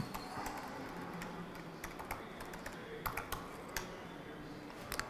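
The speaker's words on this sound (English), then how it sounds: "Again, that's my keyboard." Light, irregular keyboard typing with scattered clicks and taps over a steady background hiss, fairly close and moderately quiet.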